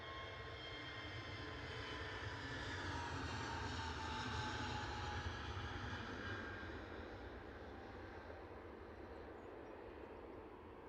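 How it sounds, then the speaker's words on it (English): A Jet2 Airbus A321 lines up on the runway at Edinburgh Airport, its engines a steady distant roar and whine that slowly fades a little, with no talking. "Jet2 Holidays lining up to go."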